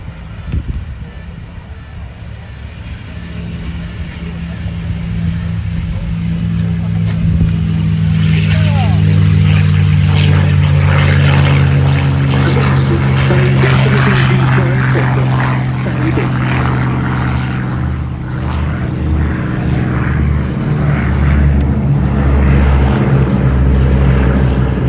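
A P-51 Mustang fighter flies past at the IWM Duxford D-Day 80th anniversary airshow, its propeller engine roar swelling loud and holding steady, with a voice talking over it.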